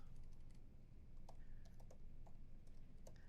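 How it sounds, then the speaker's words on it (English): Quiet, close keystrokes on a computer keyboard as someone types out web code, irregular clicks in short bursts over a low background hum, with no voices. "I'm just going to type this in"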